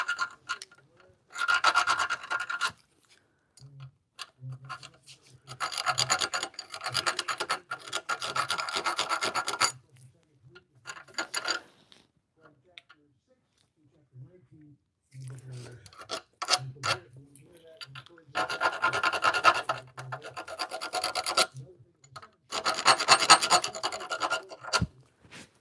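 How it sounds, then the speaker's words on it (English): A thread file rasps across the burred end of a metal part in a garage, several bursts of back-and-forth scraping separated by pauses, fairly close and alone. "try to get any of those burrs off the end. Give it a little filage."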